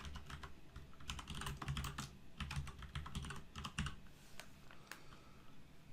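Keys clatter on a computer keyboard in quick irregular bursts as words are typed into a document, close and clear with short pauses between clusters of strokes.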